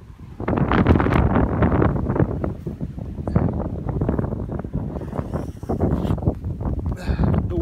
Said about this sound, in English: the weather's really come in, it's blowing really strong